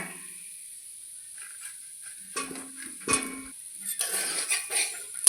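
Potatoes tumble into a pan of rice fried with spices, giving a few clattering knocks against the metal and a soft hiss over a quiet, steady background.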